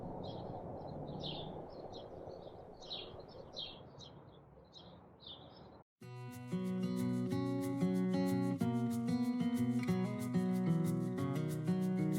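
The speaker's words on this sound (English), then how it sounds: "listen to the birds chirp" Bright, short bird chirps heard from a garden porch repeat in quick bursts over a soft outdoor hush, then cut off as loud music takes over for the rest.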